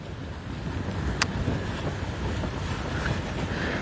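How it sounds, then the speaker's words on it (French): Strong wind buffets the microphone at an outdoor paddle board race on open water, a steady loud roar with the wash of waves, and no voices. "le vent souffle très très fort là"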